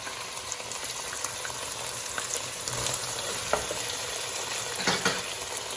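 Kerala-style chilli chicken sizzles and fries in a pan as it is stirred, a steady close crackle with occasional scraping knocks of the spoon.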